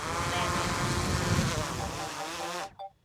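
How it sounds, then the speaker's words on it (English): A drone descends to land, its propellers producing a loud, steady whine with tonal hum that holds, then abruptly cuts out near the end, followed by a brief faint sound. "I'm just gonna go ahead and bring that drone down"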